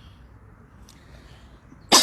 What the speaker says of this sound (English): This time everybody is coughing in Hamburg.